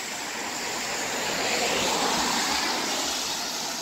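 Steady broadband wash of rain or rushing river water in a small mountain town, loud and continuous with no breaks and no voices.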